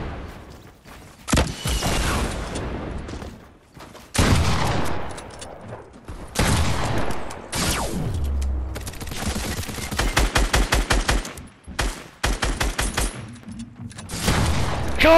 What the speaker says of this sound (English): I'm launching rockets